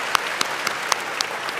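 Applause at an awards gala dinner, a steady dense wash of clapping from an audience with a few sharper individual claps standing out, continuous and fairly loud throughout the short stretch.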